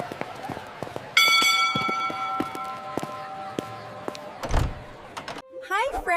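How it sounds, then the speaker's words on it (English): A school bell in a children's animated mystery story rings out as a steady, sustained tone for roughly three seconds, loud and clear over background bustle, then cuts off before other cartoon sounds. "There's the bell."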